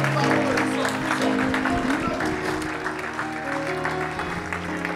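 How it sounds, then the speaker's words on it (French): A church congregation claps and cheers in praise during a sermon, steady applause filling the hall under warm ambient tones, with voices rising over it. "Est-ce que tu peux acclamer les Seigneurs?"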